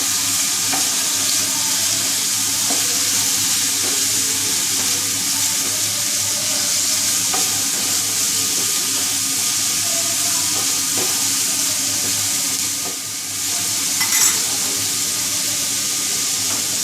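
Shredded cabbage sizzles and crackles loudly in hot oil with Chicken Manchurian as it is stirred, a steady close frying hiss that carries on throughout with faint scraping underneath.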